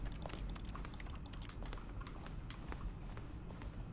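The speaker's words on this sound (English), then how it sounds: "Even though I'm not pressing my keyboard, why is it using keyboard sound even when I'm using my mouse?" Computer keyboard typing in The Stanley Parable plays as a quick, irregular run of clicking keystrokes over a low steady hum, fairly close and moderately quiet, with no voices.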